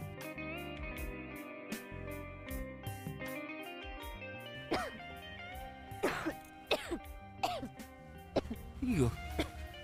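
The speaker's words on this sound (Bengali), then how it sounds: "কাশছো তো?" A person coughs and clears their throat several times during the second half. The bursts are short and close, and background music plays underneath.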